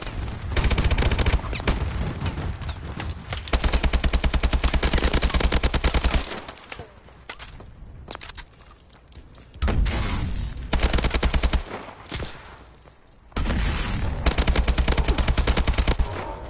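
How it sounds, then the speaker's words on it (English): Automatic gunfire in the video game Exo survival, long sustained bursts of rapid rattling shots that stop and restart several times with short quieter gaps between. "Oh, what am I shooting at?"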